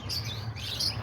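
Lovebirds giving a quick burst of high chirps and tweets, faint and brief over a low background hum.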